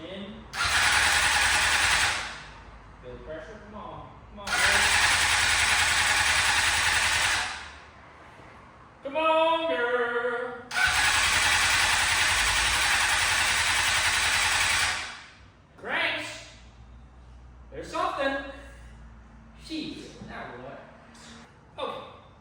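A Honda CBR600RR motorcycle engine cranking over and trying to start, with three long loud bursts of starter whirring separated by pauses, and someone talking and breathing between the attempts.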